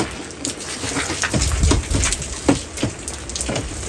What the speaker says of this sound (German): Es regnet übrigens.